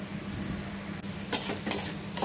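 Drained gobindobhog rice stirred with spices in a pan, a steady low sizzle with a few sharp scrapes of a spoon against the metal near the end.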